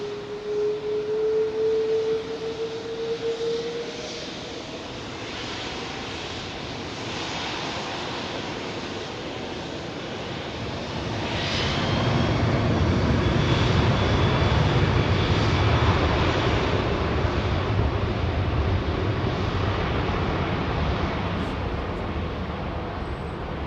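A Singapore Airlines A380 on a positioning flight to Gatwick, carrying little fuel, roars with a thick jet-engine rumble and a brief whine at the start, growing louder and deeper past the midpoint and holding there.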